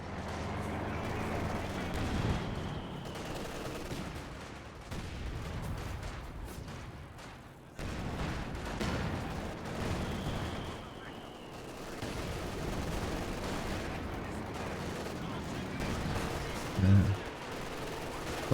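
Soviet indirect artillery and Katyusha rocket fire in a Company of Heroes match, repeated booms and crackling gunfire rumbling through the battle, with commentators talking over it.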